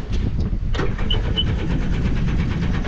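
A small mini jet boat engine cranks and catches on a shallow rocky river, a brief starter whir followed by a steady close running drone.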